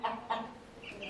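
A newly hatched chick from an incubator gives two short clucking calls close up, followed by a couple of thin, high peeps in a quiet room.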